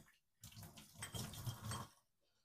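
Short splashing rinse of water washing a Honda carburetor float bowl, about a second and a half of close, moderately quiet gushing and spattering that stops abruptly.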